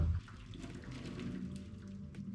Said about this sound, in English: And I'm just gonna strain the water.